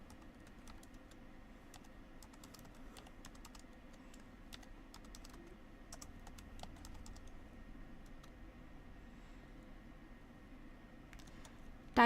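Steady typing on a computer keyboard while filling in a CAPTCHA on an online registration form: continuous soft clicking with scattered sharper keystrokes, close and alone, with no talk.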